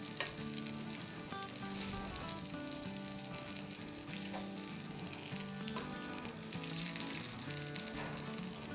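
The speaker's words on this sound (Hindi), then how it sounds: "तल लेंगे हम अराउंड 7-8 मिनट तक" Kebab patties for a homemade McArabia fry in a pan with a steady, bright sizzle that carries on continuously under background music, swelling slightly louder near the end.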